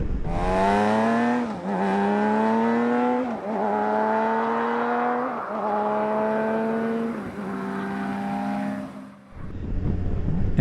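A BMW K 1600 GTL six-cylinder motorcycle engine revs repeatedly, climbing in pitch in several smooth surges with short dips between them, loud and close.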